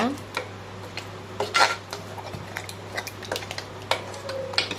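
Ladle clinking and scraping in a pot while vendakkai (okra) sambar is stirred with sambar powder, giving scattered light metallic knocks over a steady low hum, fairly close and moderately quiet.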